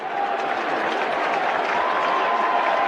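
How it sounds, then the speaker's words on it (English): A Boston ballpark crowd applauds pitcher Aroldis Chapman, a dense, even wash of clapping and cheering that holds steady from start to finish. "They cheer him in Boston now."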